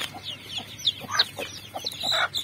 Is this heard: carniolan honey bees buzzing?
no